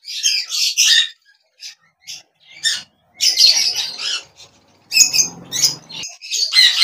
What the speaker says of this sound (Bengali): প্যাচলেস ককটেল রয়েছে, অনেকে অ্যালবিনো ককটেলও বলে থাকেন।